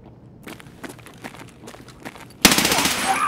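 Rapid automatic fire from a .300 Blackout MCX rifle in a video game, a burst of close shots followed by a louder, sustained blast of gunfire near the end.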